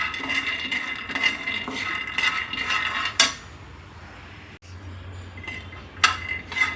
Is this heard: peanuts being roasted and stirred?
yes